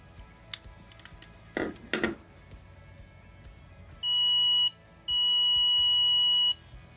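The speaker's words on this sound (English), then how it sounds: "having that vibration or that sound cue notification letting you know that's, yes, it's charging, it's working" A portable power bank gives its charging notification as two steady electronic beeps, the second longer, following a few brief handling clicks.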